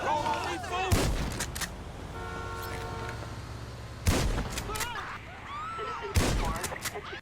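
Three loud, booming shotgun blasts in GTA 5, spaced a few seconds apart, each with a short echoing tail over a steady game background.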